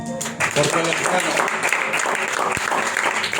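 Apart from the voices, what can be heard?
applause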